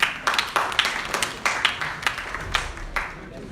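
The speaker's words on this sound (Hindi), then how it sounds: "इनके लिए भी ताली होनी चाहिए।" A small audience at a university college talk gives a brief round of applause for a student's answer: sparse, uneven claps from a few people, fairly close, with a voice speaking over them.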